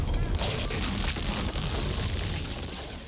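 An inflated balloon being rubbed to make a temple floor splitting effect gives a loud, steady, harsh grinding roar that fills the whole moment and eases slightly toward the end.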